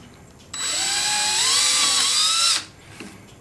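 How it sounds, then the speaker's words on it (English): A power drill with a cutter boring through a turned pen blank, one loud sustained two-second whine that rises slightly in pitch, then stops abruptly, followed by a faint tap. "I should be able to just drill through."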